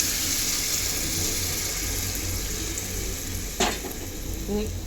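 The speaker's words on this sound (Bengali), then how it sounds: "ভালো মতো সবজি আর মশলাটা কষে যাক" Cauliflower, mixed vegetables and spices frying in a wok, a loud steady sizzle with a single sharp spoon-against-wok clink near the end and faint stirring.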